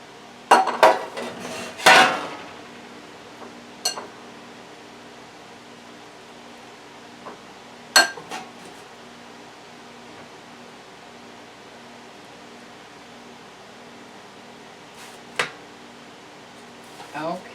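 A metal pan is handled in a home kitchen while barbecue spare ribs are prepared, giving a few sharp clanks and clatters spread out over a quiet background, with some talking between them.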